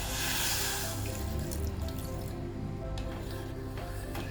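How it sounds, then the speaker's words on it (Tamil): Water runs and splashes steadily into a pot for several seconds, with a faint dripping trickle toward the end. "1/2 கப் தண்ணி ஊற்றிக்கலாம்."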